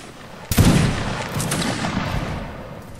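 A massed musket volley cracks out in a single loud, booming burst in Mount and Blade: Napoleonic Wars, then rumbles and echoes away over several seconds.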